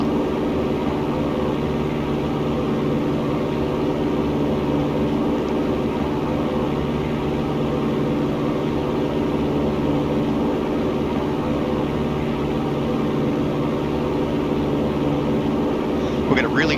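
A Piper Cherokee's propeller engine drones steadily and loudly from inside the cabin through a crosswind climb-out, a constant unbroken roar with no variation in pitch or level.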